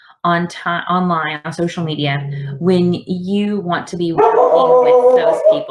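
A pet dog barks and yips repeatedly close by, loud bursts overlapping a man's continuous speech throughout.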